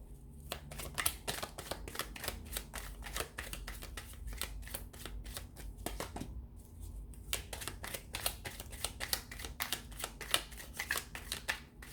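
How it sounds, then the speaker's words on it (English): Tarot cards are shuffled by hand in quick, rhythmic riffling bursts, a dense run of crisp clicks and flutters with brief pauses, close and fairly quiet. "So we'll give the cards a shuffle and see what's coming up for you guys"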